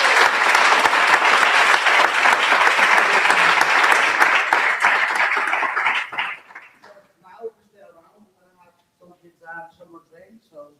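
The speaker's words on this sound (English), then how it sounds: "please big applause and enjoy the evening" Big audience applause at a Vue.js meetup evening in Barcelona, loud and dense for about six seconds, then quickly dying away into scattered voices and chatter.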